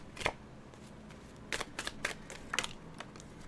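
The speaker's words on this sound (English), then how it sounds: "now I'm pre-shuffling, making sure the deck is shuffled properly" Riffle-like bursts of a tarot deck being shuffled by hand, several short crisp flurries spaced across a few seconds, close and fairly quiet with no talking.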